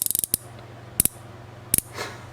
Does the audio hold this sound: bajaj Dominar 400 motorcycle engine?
no